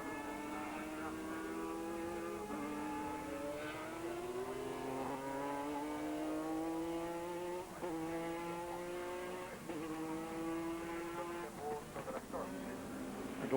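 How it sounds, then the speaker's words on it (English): Sports prototype race cars, including a Ferrari, at a 2000 Sportscar World Championship race. Their engines scream steadily at high revs, the pitch sweeping up through the gears and dipping between shifts, with faint commentary underneath. "He's about to lap the BMS Ferrari of SR1 Spa winner Enzo Calderari."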